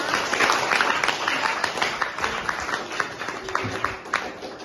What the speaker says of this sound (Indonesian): Sekali lagi kita kasih aplaus untuk semuanya